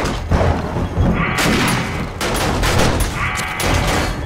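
Automated turret in the zombie survival game 7 Days to Die firing bursts of gunfire during a horde defense, loud rattling volleys with booming impacts, continuous over a few seconds with faint voices underneath.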